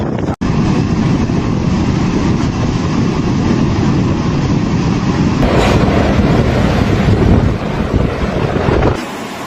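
A tornado tearing through a town in France gives a loud, unbroken roar like heavy wind, holding steady for several seconds before it cuts off suddenly near the end.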